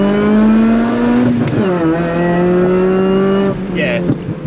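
A Mini Cooper R53 JCW accelerates hard in first gear, its engine drone loud and close, climbing steadily in pitch with a brief dip partway through before it pulls on again.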